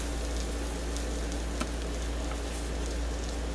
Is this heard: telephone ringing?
no